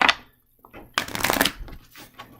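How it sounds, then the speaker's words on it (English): A deck of tarot cards is shuffled in a reading, giving a brief soft riffle, then a denser burst of papery flicking and snapping, close up with no talking. "So I'm going to shuffle one more time"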